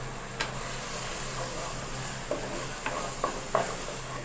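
Masala of turmeric, chili and coriander powder fries in oil, with a steady soft sizzle broken by a few scraping stirs from a spoon in the pan, close and fairly quiet, with no talking.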